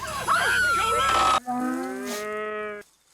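Cows mooing loudly nearby, a drawn-out bellow followed by a second long, low moo that trails off into quiet.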